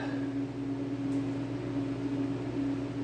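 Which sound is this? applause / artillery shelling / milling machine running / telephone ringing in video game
milling machine running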